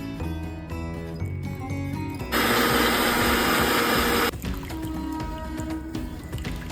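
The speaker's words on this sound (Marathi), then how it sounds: "परत खोबरं परत एकदा मिक्सर मध्ये काढून" A mixer grinder whirs loudly for about two seconds as it grinds leftover coconut a second time for Konkani-style solkadhi, with soft background music before and after the burst.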